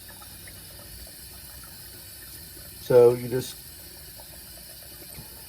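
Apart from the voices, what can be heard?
water squeezed out of sausage casing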